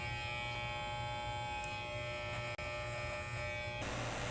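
Electric hair clippers buzz steadily and close up while cutting hair during a haircut, with one momentary cutout midway and a brighter rasp near the end as the blade bites into hair.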